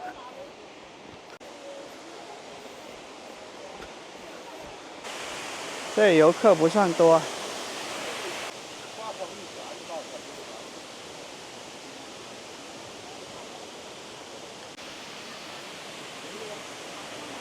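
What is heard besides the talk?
waterfall roaring at Mount Lushan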